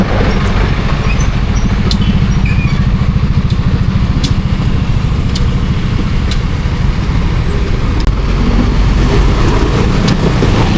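Motorcycle ridden on a daily work commute from Adlas to Manggahan, its engine throbbing loud and close with a rapid, even pulse and constant road and wind noise throughout.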